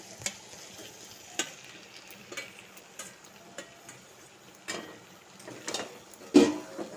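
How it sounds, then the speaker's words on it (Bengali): Fried pumpkin being stirred into a spice masala in a pan: repeated sharp spoon scrapes and clicks at an irregular pace over a soft, steady sizzle, close, with the loudest knock near the end and no talk. "কুমড়োটা দিয়ে মশলার সঙ্গে খুব ভালো করে মিশিয়ে নিচ্ছি"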